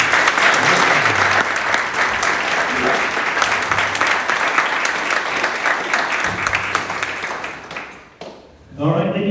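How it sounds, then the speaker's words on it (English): A graduation audience breaks into loud, continuous applause that holds steady for about eight seconds, then drops away as a voice begins speaking. "Let's give them one round of applause."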